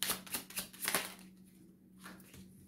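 Tarot cards shuffled by hand in a series of quick riffling bursts during the first half, then quieter handling with one soft later flick, close and fairly faint over a steady low hum.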